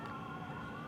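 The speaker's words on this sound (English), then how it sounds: "There's sirens in the back." Emergency vehicle sirens wailing far off at night, a faint steady rising tone under low background noise, heard alone.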